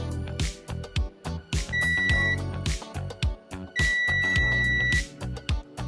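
A multimeter gives continuity-test beeps on the connections of a newly soldered USB-C port on a CH340 adapter. There is a short steady tone, then a longer one, over a loud, punchy rhythmic music track.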